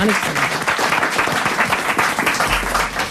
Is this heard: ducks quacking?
no